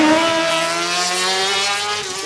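A green Nissan GTR race car, number 24, drives at a race event at Vernègues. Its engine gives a loud, steady drone close by that eases off slightly toward the end.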